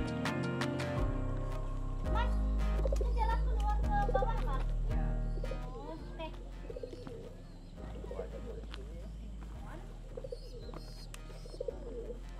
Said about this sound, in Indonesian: di sana itu ada tempat atau rumah burung merpati atau burung darah ya